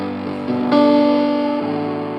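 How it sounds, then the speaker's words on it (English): Piano chords played through a distortion effect swell in sustained, buzzing layers, growing louder after a moment and then easing off over about two seconds. "So Dan loves playing with some distortion on his piano."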